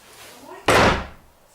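A house door is slammed to record a sound effect, one sharp, loud bang preceded by a faint creak and followed by a short fading decay.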